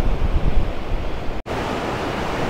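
Water pours out of the Sangam barrage gates in a loud, continuous roar of rushing, surf-like noise, close and unbroken apart from a momentary cut.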